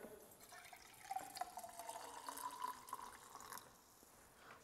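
Coffee poured into a cup, a thin trickling stream whose pitch rises as the cup fills, close by and fairly quiet, then tapering off.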